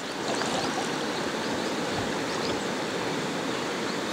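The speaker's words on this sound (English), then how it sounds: "So that right there is the Malad River" The Malad River rushes in a steady, close, loud broadband roar with no pauses or voices.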